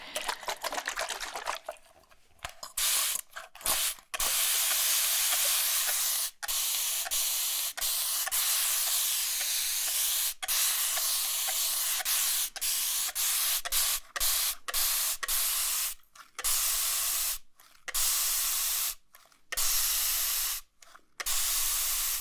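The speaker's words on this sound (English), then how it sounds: "With these really long sprays" A fine-mist spray bottle lets out long continuous hissing sprays, repeated many times with brief silent gaps between bursts, close and loud with no talking.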